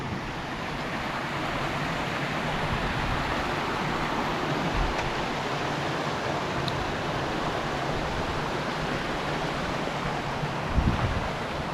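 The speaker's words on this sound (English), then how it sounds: "I can hear a waterfall" Distant waterfall along a hiking trail in Washington, a broad steady rushing roar that fills the whole stretch without pause, with a couple of soft nearby bumps or footsteps.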